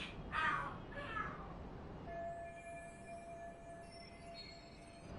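Cats screaming and yowling in a fight in the video game Lost Judgment, a few harsh rising cries followed by a long thin wailing tone, faint and somewhat distant.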